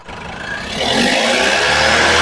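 The engine of a 2016 Mahindra Xylo E9 is revved up close: a loud roar that climbs in pitch and holds high.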